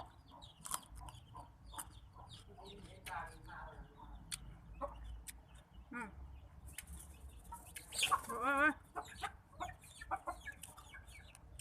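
Several chickens cluck and squawk on and off at close range on a rooftop, wings flapping at one point, while a person talks quietly in the background.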